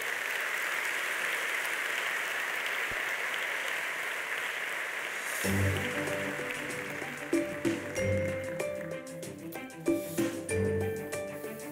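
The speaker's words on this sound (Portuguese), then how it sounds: "E um aplauso para eles." A studio audience claps as two guests join the host on stage. The steady applause lasts about five seconds, then music enters beneath it and carries on with a few louder accents.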